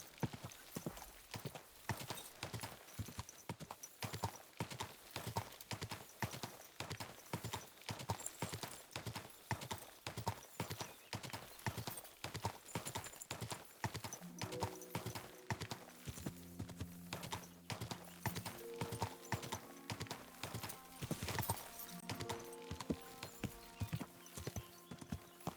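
Horse hooves clip-clop in a steady rhythm throughout while riding in Kingdom Come: Deliverance II, with an occasional whinny and game music swelling in partway through.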